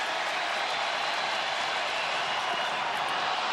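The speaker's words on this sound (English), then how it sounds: "The crowd to its feet early." A baseball stadium crowd during a Cardinals at Cubs game rises with a steady, loud, dense roar that holds evenly for a few seconds.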